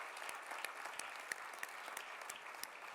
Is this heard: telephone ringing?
no